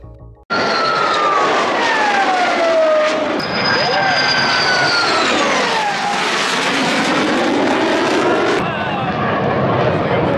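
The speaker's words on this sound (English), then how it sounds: "they did a flyover by a F-104 starfighter" A Lockheed F-104 Starfighter jet roars overhead at a Kennedy Space Center celebration, loud and sustained, its pitch sweeping down as it passes, with a crowd faintly audible beneath the engine noise.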